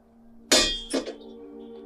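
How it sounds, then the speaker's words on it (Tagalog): A heavy object crashes onto a roof as an audio drama effect: one sharp, loud clanging impact followed by a second, smaller thud and a brief ringing tail, with no voices. "Parang may mabigat na bagay na bumagsak sa may bubungan."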